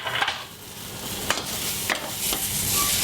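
Three garlic cloves sizzling and frying in a hot pan, a steady close hiss with a few brief stirring clicks and scrapes over it.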